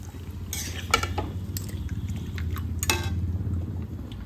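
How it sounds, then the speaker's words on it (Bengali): Marinated chicken being stir-fried in a pan for chicken kosha, a low sizzle under repeated scraping and clinking of a spatula against the metal pan, close and moderately loud. "তো চলুন এটা কিছুক্ষণ আমি কষিয়ে নিই।"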